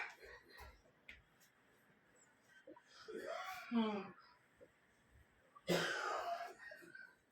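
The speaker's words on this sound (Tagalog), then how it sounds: "narinig niyo ba yung ubo ng aking jowa bells? Matindi ang kanyang ubo." A couple of rough coughs stand out near and fairly loud, with a strained, moaning voice between them over a quiet background.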